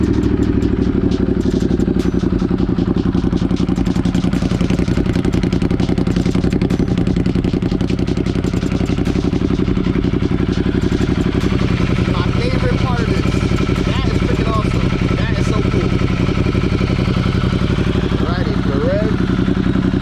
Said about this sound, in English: I gotta do a little engine start and a rev